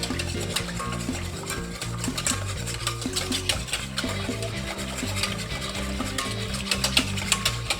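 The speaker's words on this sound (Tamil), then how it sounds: "இதையும் நல்லா பீட் பண்ணி எடுத்துக்கோங்க." Egg being beaten in a bowl for twisted doughnut dough, quick repeated stirring strokes with light clinks against the bowl, steady and close, with faint music in the background.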